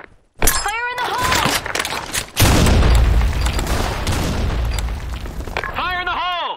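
Grenades go off in the shooter game Blackshot: two loud, close blasts a couple of seconds apart, each followed by a long rumbling tail, with brief chirping tonal sounds before and after.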